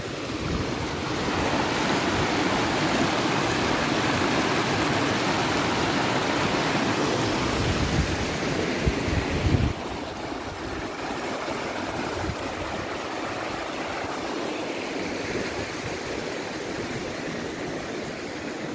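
A mountain stream near Pas de la Casa, Andorra, rushes steadily in a loud, continuous wash of water, its intensity easing slightly partway through, with no voices.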